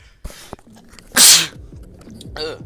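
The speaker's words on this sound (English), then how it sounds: "I gotta sneeze again." A man sneezes once, a sudden loud burst of air lasting a fraction of a second, close to the mic, between quieter scattered sounds from a video game.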